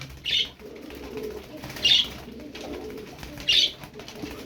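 Pigeons held for sale in Turkey, soft cooing under three short bursts of wing flapping spaced about a second and a half apart, heard close in a quiet setting.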